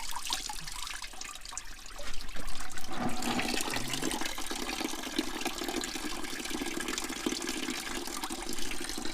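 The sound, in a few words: flushing water running through a car radiator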